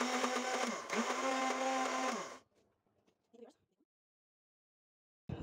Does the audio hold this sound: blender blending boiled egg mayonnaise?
yes